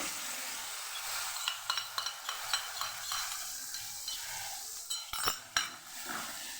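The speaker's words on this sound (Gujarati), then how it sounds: "અને પણ સરસ સાતળી દેવાની આપણે ફટાફટ આપણે હલાવતું રહેવાનું" Onions sautéing with a paste in a pan for Kathiyavadi sev-onion curry: a quiet sizzle under repeated spoon strokes and clinks against the pan, growing busier toward the end.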